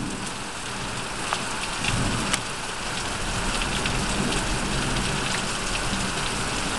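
A summer storm in Chippewa County, Michigan, brings steady rain pattering on surfaces, with sharp crackles and rumbles of thunder breaking through a couple of times.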